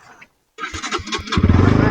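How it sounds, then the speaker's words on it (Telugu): An NS 200 motorcycle engine cranks and catches after a brief silence, rising into a loud, steady idle with a rhythmic exhaust pulse close by. "ఇప్పుడు నా బండి స్టార్ట్ అయిద్దో లేదో చూద్దాం."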